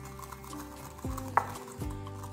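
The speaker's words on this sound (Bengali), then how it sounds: "এবার দইয়ের সঙ্গে চিনিটাকেও ভালো করে মিশিয়ে নেব।" Sugar stirred into sour yogurt in a bowl, quiet scraping stirs with a couple of dull clunks and a small clink of a spoon, no talk.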